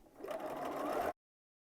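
A sewing machine stitches fabric for a face mask, a steady close whirring run of about a second that stops abruptly into silence.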